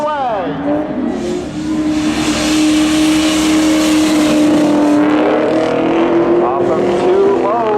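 Drag racing Mustang and Camaro launch down the track at a speedway spectator drags event, engines roaring and rising in pitch as they accelerate away, loud and sustained under an announcer's commentary.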